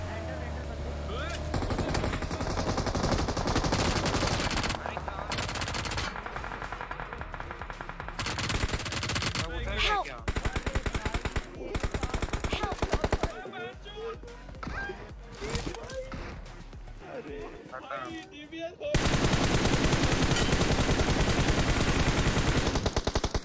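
DBS shotgun fire in the battle royale game BGMI. Loud gunshots come in repeated bursts amid dense, noisy game sound, ending in a sustained heavy stretch, with voices talking over parts of it.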